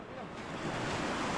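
Ocean waves surge and wash in on a choppy sea during a lashing rescue, a rising roar mixed with wind buffeting the microphone, swelling louder toward the end with no voices.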